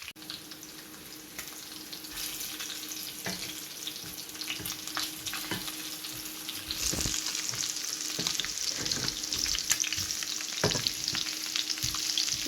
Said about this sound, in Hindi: इस तरह से इसको फ्राई कर लेंगे